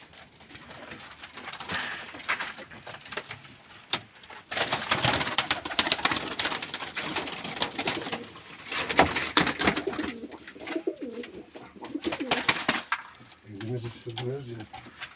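Pigeons coo in low, throaty bursts amid a busy, noisy cellar with people talking and clattering sounds nearby.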